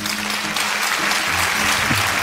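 An audience claps in steady, dense applause that fills the whole moment at close range, with no voice over it.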